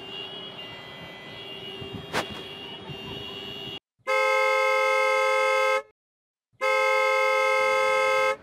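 A car horn honks in traffic in two long, loud sustained blasts separated by a short gap, following a stretch of street noise.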